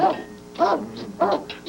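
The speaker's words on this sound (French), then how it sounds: "Ta gueule, chien!" A dog barks in a home kitchen during a family meal, two or three short yaps spaced about half a second apart, close by and mixed with people talking.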